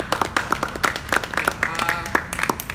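Audience at a street-learning discussion forum gives applause, a loud close patter of many hands clapping steadily, with a voice talking over it.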